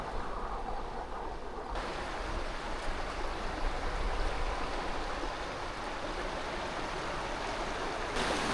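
A river runs in a continuous, even rush of flowing water, steady and moderately loud throughout, with no voices over it.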